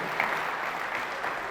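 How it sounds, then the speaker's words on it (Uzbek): Audience applause at a data and AI tech conference in Uzbekistan, a steady, fairly soft wash of clapping from a crowd welcoming a speaker to the stage, with no voices over it. "Biroz qarsaklaringiz."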